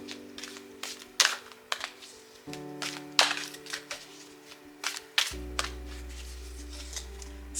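A stiff tarot deck is shuffled by hand, giving irregular sharp riffling clicks and slaps. Soft sustained background music plays underneath.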